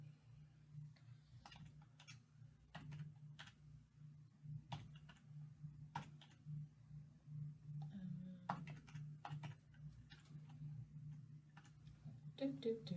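Quick bursts of clicking keys on a computer keyboard as numbers are typed into a Microsoft Excel spreadsheet, with arrow keys in the mix. Irregular, close and fairly soft, over a steady low hum.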